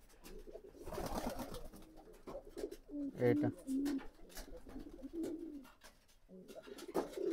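Pigeons cooing after being let out, including red Shiraz and local desi pigeons, with several low rolling coos in bursts near the middle and end over background noise, and someone briefly speaking.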